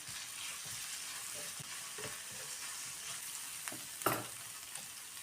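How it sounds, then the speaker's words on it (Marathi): Crushed garlic and green chili sautéing on a low flame for onion thecha, a soft steady sizzle with occasional spoon scrapes and one sharper clatter near the end; no talking. "गॅस कमी करून परतून घेऊया थोडंसं"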